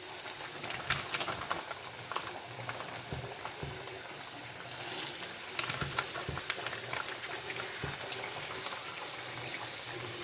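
Rice thattai, flat crackers made from idli rice, frying in hot oil with a steady sizzling bubble and occasional sharp crackles as pieces go in, fairly quiet and close.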